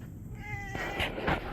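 A visiting domestic cat meows close by, one drawn-out cry followed by two shorter rising meows over faint outdoor background noise.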